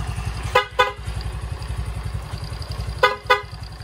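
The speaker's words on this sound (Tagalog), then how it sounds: "Okay na yung busina natin" Two pairs of short horn beeps from a Honda XRM 110 motorcycle sound close by over its steadily idling engine, the second pair arriving a few seconds after the first.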